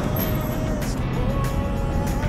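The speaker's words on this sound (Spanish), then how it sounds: "el ruido de fuera de los autos" Cars passing by outside on a street, a steady broadband traffic rumble that swells faintly at moments, continuous and moderately loud with no talk.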